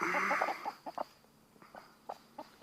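Large Faverolles hens cluck close by in a backyard flock, a quick burst of throaty notes followed by scattered short clucks separated by pauses.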